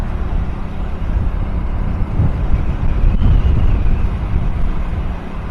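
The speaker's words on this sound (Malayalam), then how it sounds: "നല്ല കാറ്റുമുണ്ട് ഒരു തണുത്ത കാറ്റുമുണ്ട് കേട്ടോ" Wind buffets the microphone during a bike taxi ride through Delhi toward Nizamuddin railway station. It makes a continuous low rumble with slight gusting swells, and no one speaks.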